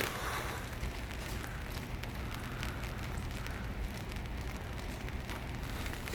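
Steady rain falling outdoors, a continuous dense hiss of drops on surfaces that holds an even level from start to finish with no voices.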